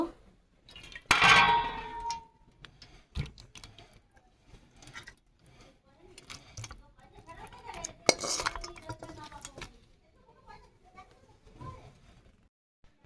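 Rui fish curry in a light oil gravy being tipped from a kadai into a serving dish, with close metal clinks and scrapes of pan and spoon, a loud clattering burst early and another midway, then softer intermittent scraping.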